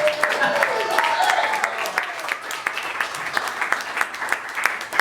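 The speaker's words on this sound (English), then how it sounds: "Give yourselves a big round of applause." A comedy club audience gives sustained, dense applause, loud and close throughout, with whoops and crowd noise mixed into the steady clapping.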